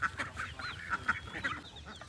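Ducks on an open farm give repeated nasal, honking quacks in quick bursts, fairly close and steady throughout.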